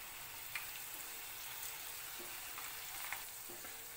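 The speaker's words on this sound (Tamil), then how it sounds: "மிதமான தீயிலே வச்சு ஃப்ரை பண்ணிக்கோங்க, இல்லாட்டி அடியில் வேகாது, மேலே மட்டும் வெந்துடும்" Cabbage pakoda frying in oil over a medium flame, a steady broadband sizzle with a few soft pops and faint stirring clicks, close and continuous without speech.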